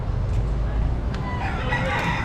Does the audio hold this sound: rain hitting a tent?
no